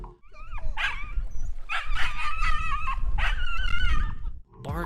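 A dog in water barks and growls while chasing a hooked shark near the shore, loud repeated yelps and barks in close bursts over a steady splashing background.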